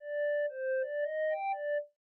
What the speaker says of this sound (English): So it's like a very basic, just clean, simple FM sound.